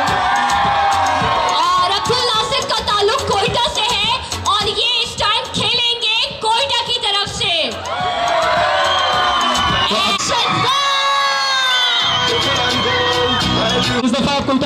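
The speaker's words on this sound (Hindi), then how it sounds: "तो इनके लिए बहुत सारी तालियां एक दफा" A large crowd of cricket fans in Quetta cheers, applauds and whoops loudly, voices shouting over one another in a sustained roar that swells and dips.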